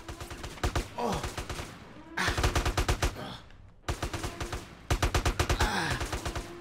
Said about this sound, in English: Ah, they're shooting me.